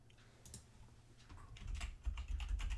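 Password being typed on a computer keyboard during a Windows Server 2012 login, a quick run of close, crisp key clicks growing slightly louder toward the end, with no talking.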